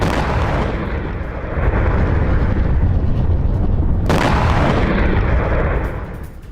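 Heavy explosive blasts from drone strikes in Kharkiv boom and rumble, one after another, with a sharp fresh detonation partway through, loud and close, without any talking.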